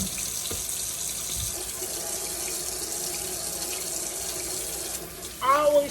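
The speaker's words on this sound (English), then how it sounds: "And then I'm going to wash this sink because I'm going to be using this sink again." Tap water runs steadily into a sink while hands and then the basin are washed, a continuous close splashing hiss that ends with a few brief squeaky rubbing sounds.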